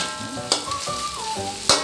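Onion and egg sizzle steadily in hot oil while fried rice is being cooked, a close, continuous frying hiss with occasional sharper clinks, without any talking.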